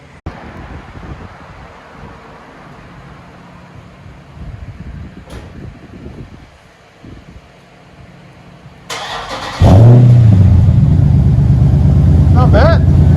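A Dodge Charger R/T with a 6.4L engine and its rear mufflers removed starts up and revs, a sudden loud deep exhaust roar after a stretch of wind and background noise, close by.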